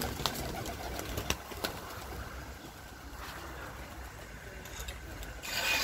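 Pigeons coo softly from a loft at the return of a Budapest race in Elbląg, the low murmuring heard faintly beneath steady outdoor background noise.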